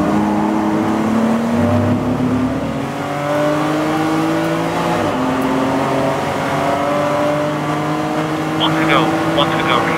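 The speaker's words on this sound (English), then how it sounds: "Here comes Oust. She'll try the outside through the stadium." Touring race cars in a TC America race at Circuit of the Americas drone past together, several engine notes rising and falling in overlapping pitches at moderate distance, steady throughout the ten seconds.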